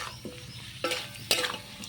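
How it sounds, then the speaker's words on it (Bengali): Fried potatoes being stirred with spices in a pan, giving soft scraping stir strokes at about 0.25, 0.85 and 1.3 seconds over a light, quiet sizzle, with no voices. "ভাজা আলুগুলো দিয়ে আমি একটু মশলার সঙ্গে মিশিয়ে নেব আর একটু হালকা নাড়াচাড়া করে একটু ভেজে নেব।"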